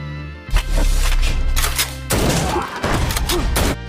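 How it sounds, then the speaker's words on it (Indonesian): A heavy shotgun blast booms close and loud, followed by a second burst of gunfire with rumbling echoes and clatter. "Master Black mengambil sebuah shotgun untuk melumpuhkan berandalan."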